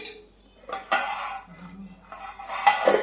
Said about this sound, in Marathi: तर मी ती कढई ठेवली गरम होण्यासाठी